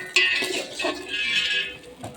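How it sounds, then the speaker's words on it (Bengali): Dry Gobindobhog rice stirred in a metal pot, a short burst of scraping and light clinks from the spoon against the pot, fairly close, with no talking. "তো এই যে এই রকম করতে করতে আমি চালটা একটু নেড়ে নিচ্ছি"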